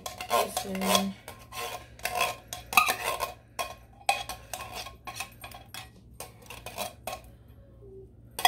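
Filling for a chicken pot pie is stirred in a bowl, giving uneven scraping and rubbing strokes of a utensil against the dish with short pauses between them, close and fairly quiet.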